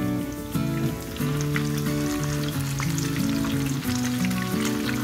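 Small anchovies deep frying until crisp in a pan, giving a continuous dense crackling sizzle with scattered pops, heard under steady background music.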